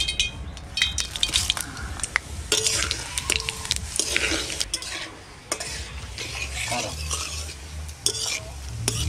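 Bay leaf, dried chili, whole cumin and whole garam masala crackle in hot mustard oil, a close sizzle broken by frequent sharp clinks and scrapes of a spoon stirring against the pan.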